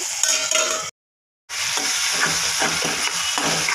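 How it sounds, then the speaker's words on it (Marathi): Cauliflower and peas sabzi sautéing in a pan with salt, a steady sizzle and frying crackle with stirring scrapes, cut by a brief silent gap before the sizzling resumes. "आता मी त्यामध्ये अर्धा चमचा मीठ टाकते आणि त्याला आपण व्यवस्थित परतून घेऊया"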